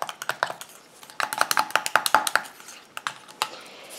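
Homemade coconut sunscreen cream stirred in a bowl, a string of quick, soft clicking taps from the utensil, irregular bursts with short pauses, close and fairly quiet.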